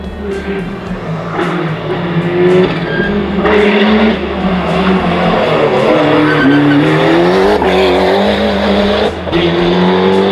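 BMW M3 rally car at a rally festival, engine loud and close with rising and falling revs, gear changes and brief skids throughout, and some voices underneath.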